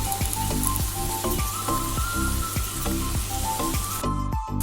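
Green chillies and ginger paste frying in hot oil, a dense steady sizzle with a regular low thumping pattern underneath, close and continuous, cutting off sharply near the end.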